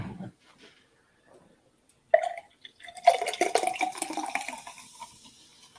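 Mountain Dew KickStart Fruit Punch hard-poured into a cup, a short splash followed by a few seconds of fizzing, gurgling liquid close by after near silence.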